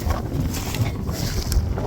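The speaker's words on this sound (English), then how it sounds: "it is a very windy day" Steady blustery wind buffets the microphone, a continuous low rumble with gusty surges throughout, no voices.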